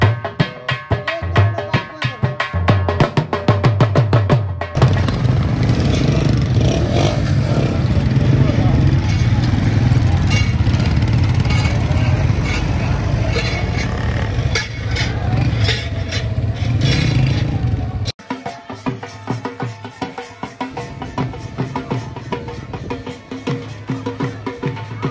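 A motorcycle engine drones steadily as the bike rides along in a village wedding procession in Cholistan, Pakistan, loud and close with wind and road noise, and the sound drops away and shifts near the end.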